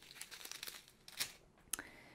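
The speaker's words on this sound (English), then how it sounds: "So I will use the plastic bags I got right away and put them in there." Plastic bags being handled and stuffed into a diamond painting kit box give off short, soft crinkles and rustles, with two sharper crackling bursts near the end, close and fairly quiet.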